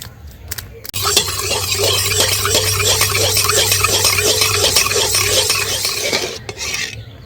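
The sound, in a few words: stirring milk powder into water in a pan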